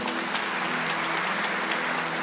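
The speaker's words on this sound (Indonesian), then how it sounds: "Oke, tepuk tangan sekali lagi." Church congregation at a pastor's ordination service clapping together, a steady wash of hand claps with scattered sharper individual claps, moderately faint and continuous.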